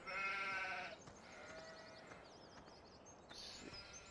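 Sheep bleating in the Farming Simulator 17 video game, one loud drawn-out bleat at the start followed by quieter overlapping animal calls against a steady background hiss.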